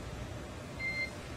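Short electronic beeps from a SpaceX Dragon spacecraft radio link, two thin tones in quick succession over a steady hiss of background noise.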